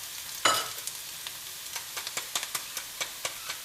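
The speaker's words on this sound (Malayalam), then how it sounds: "ഇനി നമുക്ക് ഇതൊരു ചെറിയൊരു കളർ മാറുന്ന വരെ ഒന്ന് വഴറ്റും" A vegetable mixture sautéing in a pan for Kerala-style vegetable cutlets, with a soft sizzle broken by a sharp clatter near the start and a string of light, evenly spaced stirring scrapes and taps, fairly quiet and close.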